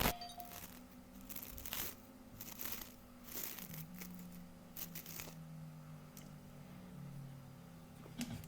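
Hair is pulled out of a hairbrush in quiet, close crinkling and tearing scratches, with brief bursts of rustle scattered irregularly over a soft background.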